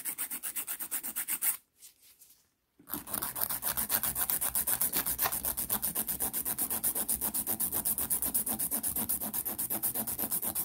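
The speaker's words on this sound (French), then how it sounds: "je vais commencer par donner un petit coup de lime ici et pareil de l'autre côté" Rapid, rhythmic rasping of a nail file scraping back and forth across a hard gel nail, close up, with a short pause before the strokes resume.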